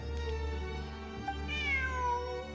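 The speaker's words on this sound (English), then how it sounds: "Ooh, the cat." A cat in the video game Genshin Impact lets out a drawn-out meow over steady layered game music, clear and upfront, with no speech.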